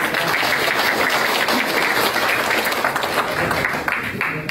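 Sustained, dense applause from a large audience at a PCNU 2025–2030 board installation ceremony, steady and loud throughout with no break.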